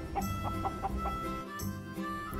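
Chickens cluck in short, repeated bursts, with a rooster among them, close and clear against a faint farmyard background.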